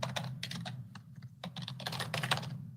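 Rapid clattering keystrokes on a computer keyboard in irregular bursts, close and fairly quiet, over a steady low hum.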